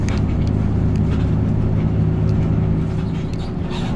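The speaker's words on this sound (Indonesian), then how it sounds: "untuk bis Prima Jasa yang saya naikin itu menggunakan sasis Hino RK8 atau Hino R260" A Prima Jasa bus on a Hino RK8 (R260) chassis travels at cruising speed, a loud steady low engine rumble and road drone heard from inside the cabin, unbroken and with no voices.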